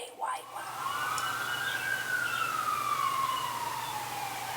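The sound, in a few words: emergency vehicle sirens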